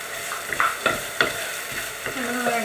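Green peas are stirred into a sizzling onion-tomato masala for aloo matar gravy, with a few clanking spoon strokes against the pan over a soft steady fry.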